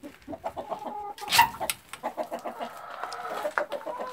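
Ogol black chickens cluck in their coop with a steady run of short, close calls, one louder squawk rising partway through among the repeated clucks.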